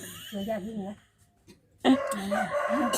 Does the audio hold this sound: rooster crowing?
yes